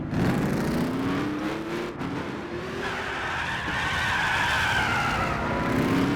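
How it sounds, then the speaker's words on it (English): In the racing game Gran Turismo 6, a car spins out and skids, giving a continuous tyre squeal and screech over a revving engine. The sound rises and bends in pitch as the car slides, and there is no talking. "there's gonna be a part where I just spun out into the finish."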